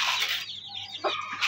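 Chickens cluck and squawk close by in a farmyard, a short burst of hen calls with faint rustling.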